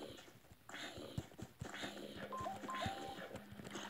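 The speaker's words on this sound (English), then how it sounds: "I got my phone right here, so it's ringing." A mobile phone rings with a short pattern of repeated electronic tones, faint and brief, among clicking and clopping sounds from a Minecraft game.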